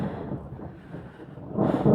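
Wind roars through a mountain rainstorm, a steady low rumbling rush that swells louder near the end, with deep thunder blended into the blustery noise.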